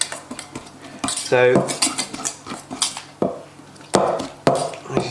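A hand whisk stirring macaron filling in a bowl, producing repeated clinking metal-on-bowl taps and scraping in an uneven rhythm, close and fairly loud, with a brief spoken word.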